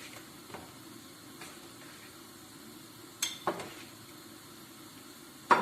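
Potatoes fry in oil with a soft, steady sizzle at low volume, broken by a few brief utensil clinks and knocks near the end, and no voices.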